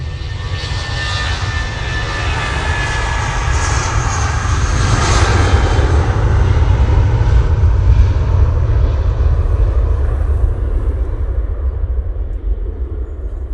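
An Emirates airliner in new livery departs with a loud, steady roar of jet engines, deep rumble building and holding throughout, close and sustained with no voices.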